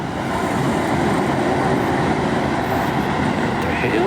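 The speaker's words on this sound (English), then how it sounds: "Train is still running at midnight." Train rolling past at midnight on a Kyoto street, a loud, steady rumble of wheels and carriages that holds evenly throughout, close by and mixed with city noise.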